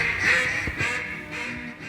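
Ducks, including mallards, quacking at a hunt near Stuttgart; several nasal, raspy calls repeat in an uneven rhythm, moderately loud and fairly close, with no talking.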